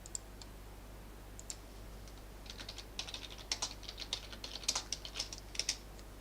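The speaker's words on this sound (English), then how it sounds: "type in Trovo." Typing on a computer keyboard, a run of quiet, irregular key clicks that starts sparse and grows denser, close but soft, with no talk over it.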